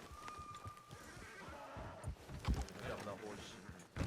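Horse hooves clip-clop at a steady pace in the Red Dead Redemption 2 video game, moderately close, mixed into busy background noise with muffled voices.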